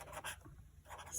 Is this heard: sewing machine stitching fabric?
no